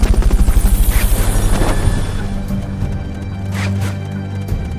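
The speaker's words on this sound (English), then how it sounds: "Fulton recovery subject confirmed onboard helicopter." A Fulton recovery helicopter in the video game Metal Gear Solid Peace Walker thuds with fast, rhythmic rotor beats up close, then settles into a loud, steady engine whir.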